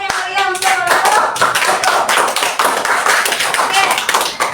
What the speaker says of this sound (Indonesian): Kita beri dulu tepuk tangan yang meriah untuk kelompok.